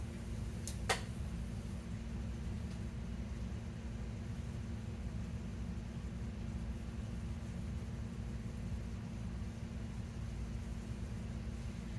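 A steady low hum of an air conditioner runs throughout at a constant level, with a faint brief click near the start.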